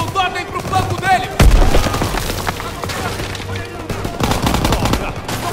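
Machine gun fire in a Call of Duty: WWII battle, bursts of rapid gunshots with a loud boom partway through, continuing under shouted talk and other battlefield noise.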